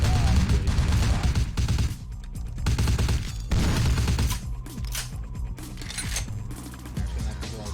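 Bursts of rapid gunfire from the video game Vampire: The Masquerade – Bloodlines, loud volleys separated by brief gaps, with scattered single shots and clattering toward the end.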